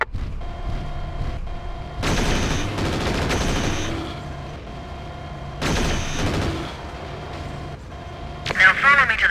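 Mech in MechWarrior 4 firing weapons at fuel tanks during a training mission, with bursts of gunfire and blasts in two clusters and a final sharp impact, under voice chatter and radio-style game audio.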